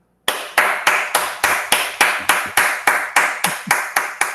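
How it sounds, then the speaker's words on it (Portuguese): A small audience claps after a linear algebra lecture, about fourteen crisp, evenly spaced claps in a steady rhythm, close and fairly loud, with no talking over them. "Só de uma salva de palmas aí"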